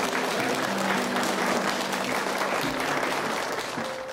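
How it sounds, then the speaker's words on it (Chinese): Classmates clap together in a school classroom to congratulate a student who improved most on an exam, a steady, dense round of applause sustained throughout with a faint murmur of voices beneath. "大家给他掌声。"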